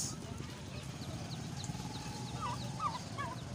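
Turkeys gobble in rapid warbling bursts near the end, over the steady hubbub of a busy poultry and livestock market where ducks and rabbits are also displayed, with crowd noise and talk running throughout.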